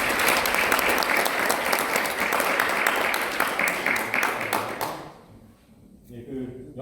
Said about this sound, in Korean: 이 시간에 다시 한번 감사의 박수 저희가 쳐드릴까요?